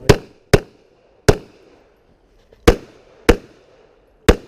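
Six sharp, loud pistol shots ring out at an IDPA shooting match, fired in an uneven rhythm with short gaps and a longer pause in the middle, each crack followed by a quick decay.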